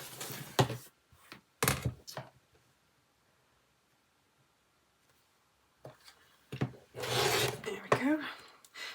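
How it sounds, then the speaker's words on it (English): A rotary cutter trimming excess fabric along a ruler while finishing a cross-stitch strawberry, heard as a few short close scraping rubs, then a quiet gap and a longer grinding stroke near the end. "I'm going to lay my ruler on the 3/8 of an inch line, and I'm going to cut away the excess fabric."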